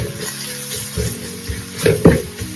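Garam masala lightly frying in a pool of oil, a soft steady sizzle with a couple of louder stirring scrapes near the end, no voices.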